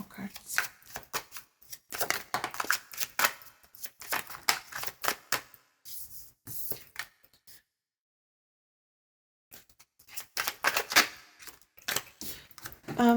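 Tarot cards being drawn and shuffled, with dense bursts of riffling and flicking close up, a brief silent gap, then more rapid shuffling.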